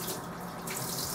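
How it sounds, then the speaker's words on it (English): Cold tap water runs steadily over a frozen tofu container in a kitchen sink, a close, continuous splashing hiss with no talk. "And then when you run it under the cold water,"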